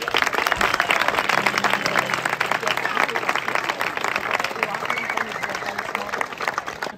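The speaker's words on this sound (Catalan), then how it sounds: "un aplaudiment pel Pere" Crowd applause for Pere at a Caramelles singing performance, a dense, steady clapping that stays loud and sustained throughout, with a faint low tone underneath.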